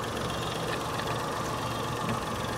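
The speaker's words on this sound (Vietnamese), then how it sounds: "máy nổ là không có nghe một cái tiếng động luôn ha" A 2008 Daewoo Matiz's small 0.8-litre engine idles quietly and steadily, a soft continuous hum with no other sounds.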